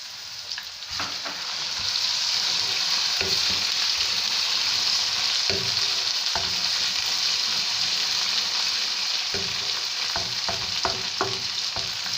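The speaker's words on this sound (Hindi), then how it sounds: "लहसुन अदरक का पेस्ट डालूंगी," Garlic ginger paste sizzles loudly and steadily in a hot pan while cooking aloo matar curry, with occasional soft knocks and scrapes from stirring.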